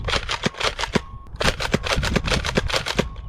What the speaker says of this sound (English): Now let's fire some shots downrange.